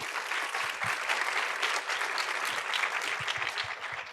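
Audience applause in a conference hall before a short gymnastics performance at a sports panel, a dense steady clapping that holds loud for the full stretch with no voices over it.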